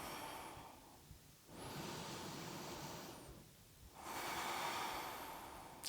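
Slow, deep breaths drawn in and let out through the nose during a yoga sun salutation, with three soft airy cycles that are close and faint.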